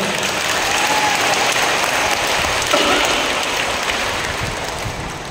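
A church congregation applauds for God, a loud, dense wash of clapping from many people that holds steady for several seconds before easing slightly.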